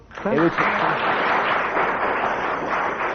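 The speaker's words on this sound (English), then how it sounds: "Thank you for that unsolicited applause." An audience at a comedy panel show applauds in a dense, sustained burst lasting a few seconds after a brief spoken word.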